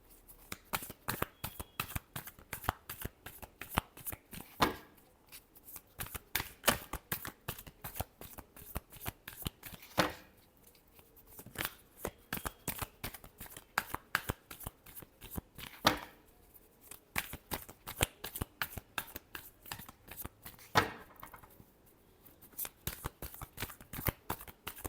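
Tarot cards being shuffled close up in continuous rapid riffling bursts, with brief pauses between rounds and no voices over the papery flutter.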